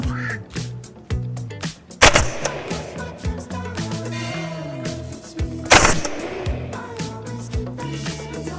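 A VFC FNC gas blowback airsoft rifle fires at a 50-meter target outdoors, with a series of sharp, separate cracking shots spaced a second or more apart, a couple of them louder, over steady background noise.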